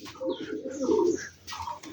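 Rajshahi Giribaz pigeons, black birds with matching feet and beaks, coo in low, throaty bursts that swell and fade across a couple of seconds, close by with faint higher chirps above.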